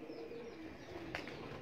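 A pigeon coos softly in a loft in Kasur, a low murmuring call rising briefly over a steady background hum, with a short brighter chirp near the end.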